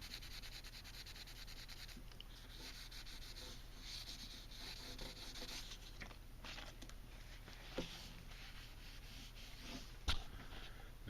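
Fine abrasive paper rubs across the painted panel of a Hallicrafters SX-28A radio, a faint, continuous dry scratching with a few soft taps, all quiet and close.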